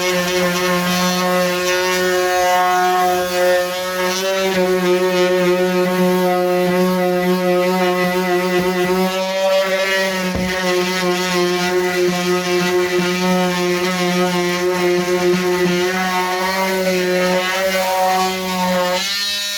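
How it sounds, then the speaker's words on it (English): A cheap cordless multi-tool works into the corners of MDF letters, giving a loud, steady, close oscillating buzz with a strong hum that carries on nearly unbroken, with only a brief dip partway through. "I keep on forgetting about my little multi-tool, the cordless one I've bought."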